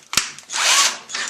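A power drill drives a screw down tight to fasten string on a homemade wooden A-frame level, giving a short, loud whirring burst after a brief click, close up with no talk.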